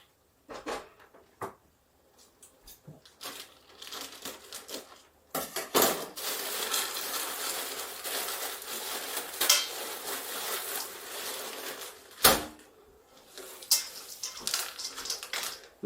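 Food being stirred in a pot in a home kitchen, a spoon scraping and clinking against the pot in uneven bursts with a soft sizzle, louder in the middle and broken by sharp knocks.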